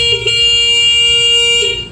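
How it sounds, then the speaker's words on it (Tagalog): A Honda Click 125 V4 scooter horn sounds one steady, continuous blast of about two seconds, loud and close, with nothing else around it. "Tapos ito yung galawan na tunugan ng ating busina para marinig nyo lamang."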